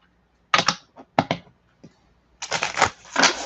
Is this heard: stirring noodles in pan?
no